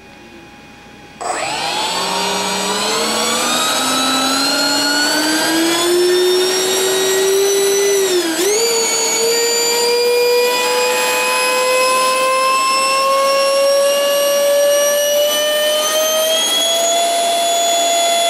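A small electric ducted fan jet whines up from silence into a loud, rising high-pitched scream, dipping briefly before climbing steadily toward full throttle.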